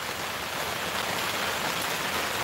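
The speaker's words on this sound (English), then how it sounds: "Can you hear the rain?" Rain falls steadily on a rainy Wednesday, a dense, even hiss of drops on surfaces that stays loud and unbroken throughout with no voices.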